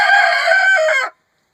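A rooster in a chicken coop lets out a single loud, close crow. The call holds bright and strained for about a second, then cuts off into silence.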